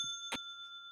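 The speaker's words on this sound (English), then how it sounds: "There, the bell has been rung." A single short, bright bell ring sounds during a Minecraft stream, brief and fairly faint over a steady background tone, followed by a fainter echo.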